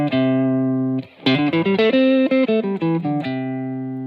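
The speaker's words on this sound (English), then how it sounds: "then we can play C pentatonic with this shape in mind" Electric guitar picks out a quick run of single notes through a C pentatonic scale, played clean and up close between sustained held notes at the start and end.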